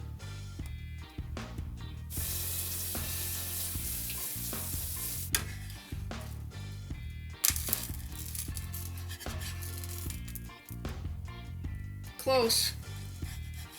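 Blueberry pancake batter sizzling steadily in an oiled frying pan, a continuous close hiss with clicks of utensils and brief talk over it.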